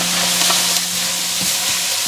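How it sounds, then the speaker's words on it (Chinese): Beef and vegetables being stir-fried in a hot pan with scallion and ginger, sizzling steadily with a few scraping stirs of the spatula, close and fairly loud with no voices. "给它炒一炒"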